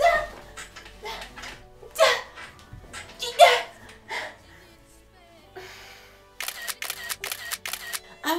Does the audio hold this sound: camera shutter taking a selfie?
yes